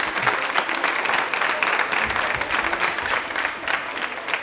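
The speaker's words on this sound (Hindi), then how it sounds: "एक बार तालियां जोरदार हो जाएं प्लीज।" Steady, energetic clapping fills the studio as the audience of a Women's Day television quiz in Rajasthan applauds a correct answer, a thick sustained burst of many hands with no talk over it.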